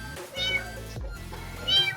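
Rescued street kittens give several short, high meows close by, one after another with brief gaps, fairly clear and with no voices over them.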